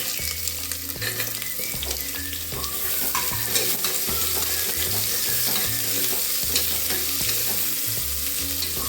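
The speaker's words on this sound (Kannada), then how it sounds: "ಇವಾಗ ಮೂಲಂಗಿ ಹಾಕ್ತಾಯಿದ್ದೀನಿ" Grated or chopped radish fries in hot oil with onion and curry leaves, a continuous loud sizzle broken by repeated scraping stirs of a spoon against the pan, close up and without talk.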